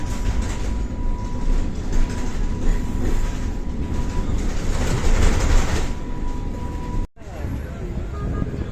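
A tram in Istanbul runs steadily with rattling, clattering wheels and a low drone, loud and close, cutting off briefly near the end.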